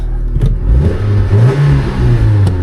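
A car engine with an exhaust blow revs loudly up close, its pitch rising and falling over a deep rumbling idle, with a couple of sharp clicks.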